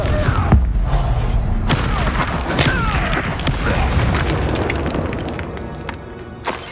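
Confringo blasting spell in Hogwarts Legacy combat: a sharp blast near the start followed by crashing, thumping impacts and rumbling debris, loud and close with a few scattered hits toward the end.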